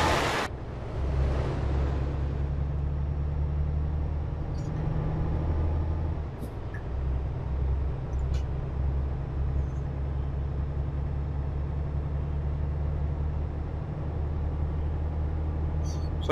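A truck engine in Euro Truck Simulator 2 drones steadily with a low, even hum. It pulls at a constant pitch for most of the stretch, and a few faint clicks and ticks sit over it.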